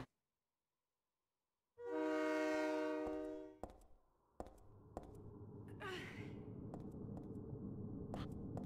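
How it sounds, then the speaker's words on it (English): Train sound in the video game Silent Hill 3, heard in a subway station: a long, tonal horn-like wail for about two seconds, then a low, steady rumble with scattered sharp clicks, with no voices. "What's weird is you can hear the train, but it never comes."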